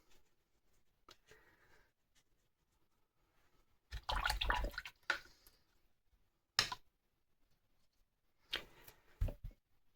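A watercolour paintbrush rinsed in a water jar, close and faint, with short bursts of swishing, clinking and dripping splashes separated by quiet gaps and no talking.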